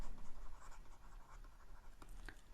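Continuous scratchy strokes of writing on a board during a physics lecture, steady and close, with a few sharper taps near the end.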